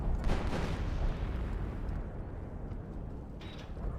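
A 25-pounder artillery shell hits and destroys a Pak 38 anti-tank gun in the Company of Heroes game: one loud explosive boom with a rumbling decay, then a smaller burst near the end.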